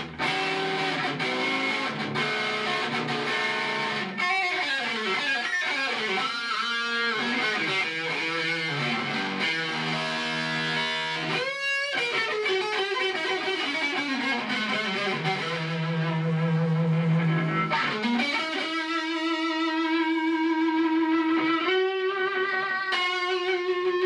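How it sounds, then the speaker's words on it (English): Distorted electric guitar made from a wine box, with heavy effects, sustained chords and sliding notes washing into a long, echoing reverb tail, loud and continuous throughout. "Reverb's got a super nasty sound."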